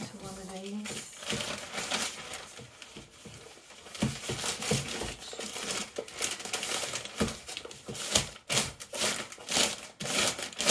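Clothes are stuffed into a grey plastic mailing bag, giving close, irregular crinkling and rustling bursts that grow busier toward the end, with a voice speaking at times.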